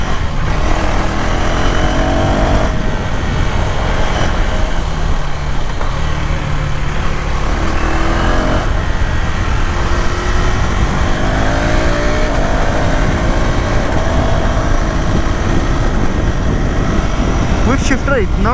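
KTM Duke 390R motorcycle engine revving hard through quick-shifted gears, a loud, steady mechanical drone with rising and falling pitch sweeps as gears change, continuous for the whole stretch.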